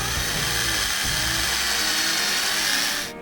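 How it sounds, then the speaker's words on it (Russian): A power drill with a 3 mm bit whines steadily, biting into a metal bicycle handlebar with a high, sustained buzz before stopping abruptly at the end. "На удивление легко сверлится руль."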